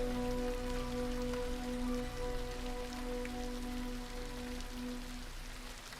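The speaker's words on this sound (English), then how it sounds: "But you do hear the gentle sound of rain slowly stop." Gentle rain falls steadily throughout, a soft continuous patter on surfaces with a faint low hum beneath, fading slightly toward the end.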